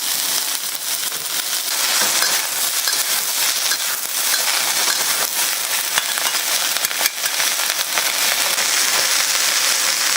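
Beef and rice noodles stir-fry in hot oil in a wok, giving a steady, loud, dense sizzle and crackle that runs on without a break.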